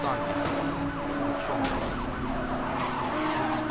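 Cars in a Need for Speed-style police chase racing game skid and crash, with tyre screeches, impact bangs and a wailing siren layered over a steady engine roar.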